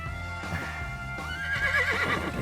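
A horse lets out a loud, close whinny with a shaky rising-and-falling pitch, accompanied by faint shuffling hoof sounds and no talking.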